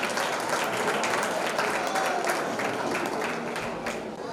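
Audience applause at a public honouring ceremony, steady dense clapping from a large crowd that holds at full strength throughout and eases only slightly toward the end.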